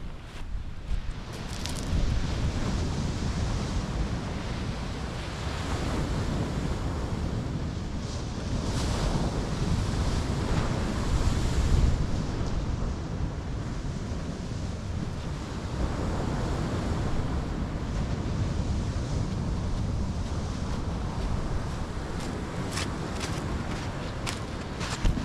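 Steady roar of surf breaking on the shingle beach at Slapton Sands, continuous and broad with heavy wind buffeting the microphone throughout and no voices.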